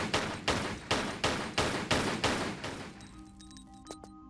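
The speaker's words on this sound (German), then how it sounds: "Lara, Fledermäuse schießen." Gunfire from the video game Tomb Raider: The Last Revelation, as Lara shoots bats: seven evenly spaced loud shots in a steady rhythm, then a quieter game ambience with faint tones.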